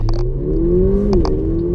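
A Mercedes-AMG with the M178 4-litre twin-turbo V8 revs and accelerates above 3,000 rpm, a steady loud engine drone rising in pitch from inside the car, with a few faint clicks on top.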